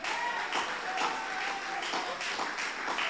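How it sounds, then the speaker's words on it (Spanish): A church congregation applauds in praise during a sermon, a steady dense patter of many hands with a faint rhythmic pulse, heard from some distance in a reverberant room. "Denle un aplauso al Señor."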